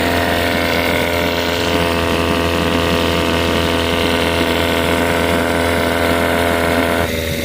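A 6hp Johnson outboard boat motor with a throttle fault runs at a steady idle, a loud, close, continuous buzzing drone that holds even for the whole stretch, with no talking.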